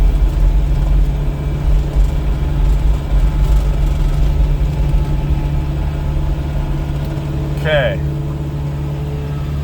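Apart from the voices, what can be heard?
snow blower engine running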